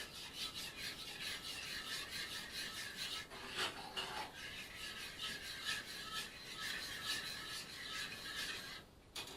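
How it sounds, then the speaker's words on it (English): Almond milk being stirred in a pot on the stove, a spoon scraping and rubbing against the pan bottom in a steady, continuous rasping rhythm close by, with no talking. "Now, continue to stir."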